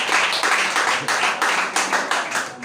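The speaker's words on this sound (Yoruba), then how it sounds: "pàtẹ́wọ́ fún Jésù" A church congregation claps for Jesus during worship, a loud rhythmic run of collective handclaps with roughly evenly spaced beats, full and close throughout.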